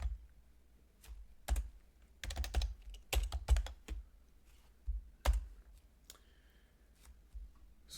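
Python code being typed on a computer keyboard, close and crisp: scattered keystrokes and short quick bursts of clicking separated by brief pauses, no talking.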